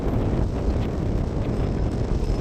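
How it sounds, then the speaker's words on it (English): Strong wind on a railway platform at Manchester Piccadilly, a steady loud buffeting roar against the microphone that persists without a break and has no voices over it. "The wind is proper whipping it up."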